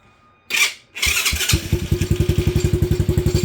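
A Venom Madix 125 motorcycle with carburetor problems is kicked over with a couple of loud thumps, then catches and settles into a close, loud, evenly pulsing idle.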